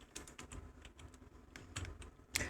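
Keys tap in quick, irregular bursts on a computer keyboard, a close, quiet stream of clicks with no talk.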